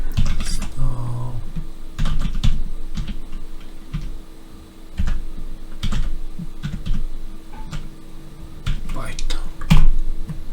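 Clicky computer keyboard typing in irregular bursts of keystrokes with short pauses, close and clear, while a person talks at times underneath.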